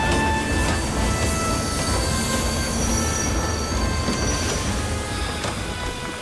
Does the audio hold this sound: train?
yes